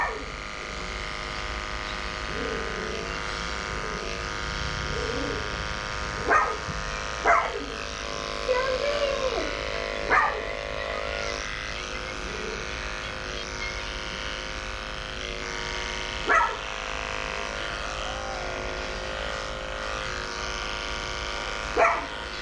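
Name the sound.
dogs barking in a grooming salon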